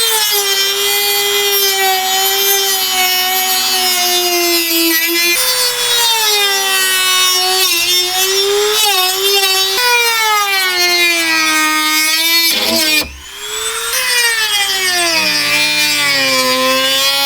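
Power tool cutting out a bracket during a steel front bumper install on a Jeep Grand Cherokee WJ, a loud continuous whining cut with shifting pitch that breaks briefly near the end before resuming.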